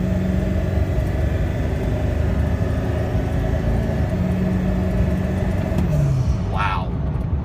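A 2002 Ford F250 pickup truck drives with a steady, continuous engine drone and road rumble throughout, loud and close, with a slight shift in pitch near the end as it moves.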